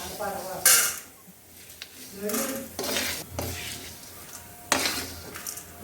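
Chickpea dal being scooped from a pot onto a plate, with several sharp metal clinks of a ladle against cookware and soft scraping between them.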